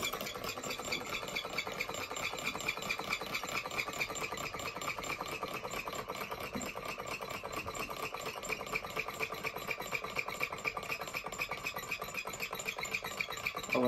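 A small Stirling engine runs at a faint, steady mechanical whir with a light rattle once its heat source is taken away. The even hum holds throughout with no break.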